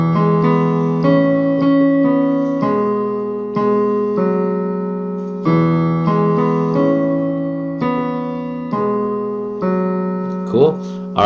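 Solo piano plays the pre-chorus melody of a pop song, steady repeated chords and a right-hand tune over about eleven seconds, close and clear with a brief noise near the end.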